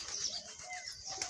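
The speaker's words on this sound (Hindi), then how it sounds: "कबूतर" Pigeons coo softly in a low, throaty murmur, faint and continuous, with a few higher chirps mixed in.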